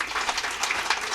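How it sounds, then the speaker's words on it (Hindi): An audience at an International Women's Day felicitation and prize ceremony claps for itself in a short, continuous patter of many hands, fairly close and even in volume. "आप आपके लिए एक ताली बजा लीजिए।"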